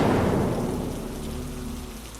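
A storm of heavy, steady rain with a rumble of thunder rolling and fading away, loud at first and then slowly easing, with no voices.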